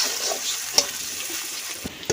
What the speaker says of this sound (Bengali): পেঁয়াজটা একটু হালকা বাদামি করে লালচে লালচে করে ভেজে নিচ্ছি।